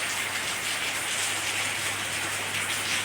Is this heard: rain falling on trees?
yes